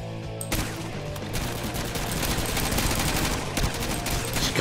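Gunfire in a pixel-style shooter video game: rapid overlapping bursts of automatic shots crackle densely and loudly, a steady barrage running nearly the whole time after a brief quieter opening.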